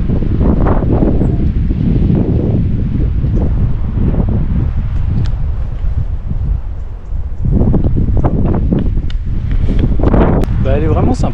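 Gusty wind at a sunset viewpoint buffets the microphone in a constant roar that rises and falls, with people talking throughout.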